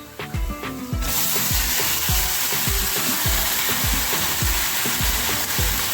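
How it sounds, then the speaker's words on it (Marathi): Soaked masoor lentils tipped onto fried onions in a pan set off a loud, steady sizzle after a short clatter, with a regular thumping of stirring repeated underneath and no voices. "आता आपण ही भिजवलेली मसूर डाळ घालून घेऊयात"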